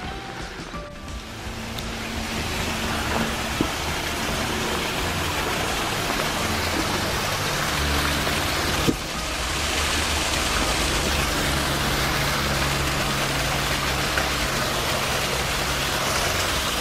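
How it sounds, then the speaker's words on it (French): Rain falls on a hike near La Bourboule, a steady broadband patter with running water, holding evenly throughout with a brief soft knock partway through. "là il pleut quand même"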